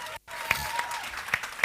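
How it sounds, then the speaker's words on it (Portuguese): Short burst of applause from a church congregation, a dense patter of clapping with a few sharper nearby claps standing out, at moderate level. "Vamos dar um forte aplauso, amém?"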